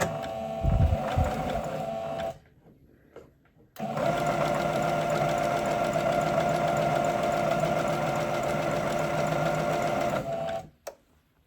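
A sewing machine stitches the hem of a pair of leggings being shortened. It runs in two close, loud bursts, a short run and then a longer steady run, with a brief pause between them.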